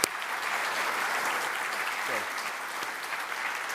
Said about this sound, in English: maybe we can have a bit of a round of applause for the extraordinary effort